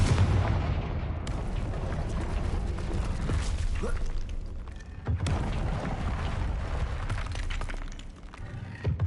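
Fiery blasting-spell explosions from the Hogwarts Legacy video game, two heavy booming bursts rumbling loudly through dense low-end noise with crackling debris tails and no speech.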